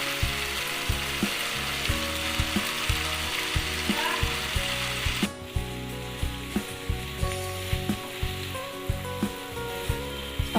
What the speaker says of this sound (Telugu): మిక్స్ చేసుకొని ముందుగానే మనం వేయించి పెట్టుకున్నాం కదా గోబీ ఇందులో యాడ్ చేసుకుందాం